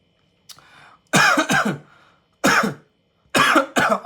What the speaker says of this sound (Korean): 갑자기 기침이 나서